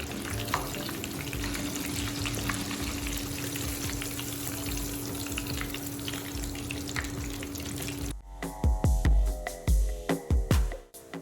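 Panko-coated shrimp sizzle steadily in a pot of hot oil, a dense crackling hiss held for about eight seconds, then giving way to louder clattering, splashy knocks near the end.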